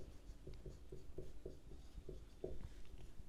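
A pen writes an accounting entry on paper in quick, light, rhythmic strokes, close and fairly quiet, with no voices.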